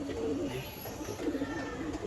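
Soft, low pigeon cooing repeats in a steady murmur against a faint background hum, close by and gentle.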